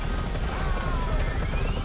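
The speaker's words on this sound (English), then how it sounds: "Where's that helicopter gone?" A helicopter in the video game Grand Theft Auto V, a steady loud rotor thrum with rapid blade chop that fills the whole moment, with no talk over it.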